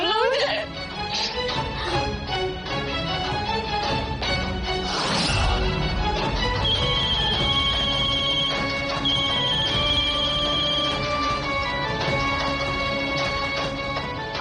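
A phone ringtone sounds for an incoming call from an unknown number, a steady electronic tone repeating for several seconds beneath loud dramatic background music.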